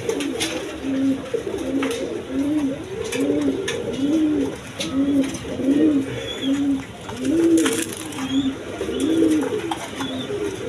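A single pigeon coos close and clear in a steady, repeating rhythm of rising-falling phrases, about a dozen in a row, with little else around it.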